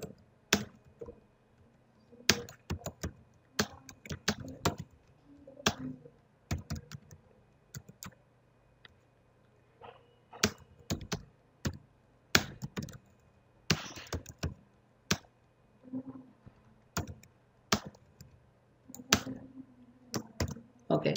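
Typing on a computer keyboard while writing jQuery code, with quick irregular bursts of clicky keystrokes separated by short pauses, close and fairly quiet over a faint room hum.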